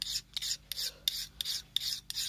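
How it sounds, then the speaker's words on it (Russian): Diamond needle file sharpening a kitchen bayonet blade, a series of about eight quick, close, soft rasping strokes in an even back-and-forth rhythm. "Обычный алмазный надфилек."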